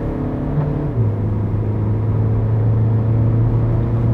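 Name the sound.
Renault Talisman 1.6 dCi engine accelerating in Sport mode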